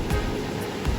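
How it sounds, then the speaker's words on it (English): Muddy floodwater rushes out of a flooded river after heavy rain in Eden, New South Wales, with a steady broadband roar, close and moderately loud, with no talk. "look at the water just flowing out as quickly as it can"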